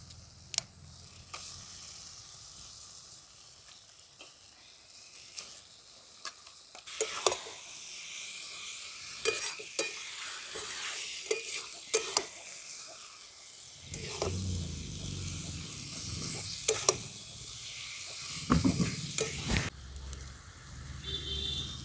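Pieces of duck meat sizzle and crackle as they are tossed into a spice masala that has already been cooked down, for a winter duck curry. The sizzle is steady and moderately loud, broken by bursts of stirring and scraping.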